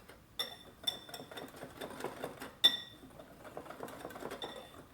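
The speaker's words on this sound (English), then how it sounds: "Take this whisk and we will just give this a good whisk." A whisk knocks and clinks against the side of a bowl while stirring brownie batter, a quiet irregular series of metallic taps and scrapes with a few sharper rings, no talking.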